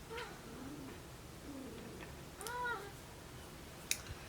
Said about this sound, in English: The cats are fighting over on the bed, because that's what they do.